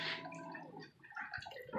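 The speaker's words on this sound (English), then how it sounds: "Let me shut this water down." Running water being shut off during a home concentrate yield comparison, a short watery gurgle and splash that tapers into dripping sounds, close and moderately quiet with no talking.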